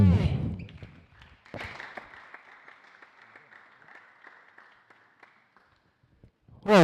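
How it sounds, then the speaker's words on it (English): An audience at a Teleios Dome awards ceremony claps for several seconds, a light, fairly faint patter that fades out, with a voice briefly at the start and again at the end. "In second place, a round of applause for Ravim."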